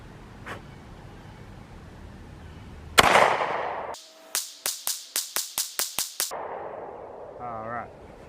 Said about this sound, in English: This is 25 feet, Sig P365 XL, and we're going to do all headshots.